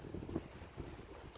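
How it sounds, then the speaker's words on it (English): Gusty wind buffets the microphone outdoors, a steady low rumble swelling in soft bursts with no one speaking. "So it's so windy today."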